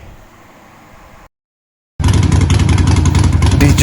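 A 2020 Harley-Davidson 1200 cc motorcycle engine runs at a steady loud idle after a brief silence, with a quieter engine rumble before the gap.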